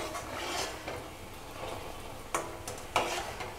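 Layered Dhakai paratha fries in hot oil in a pan, a steady close sizzle and crackle that runs throughout, broken by a few sharp clicks and taps of a utensil.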